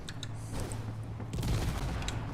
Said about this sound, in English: another explosion on the back trailer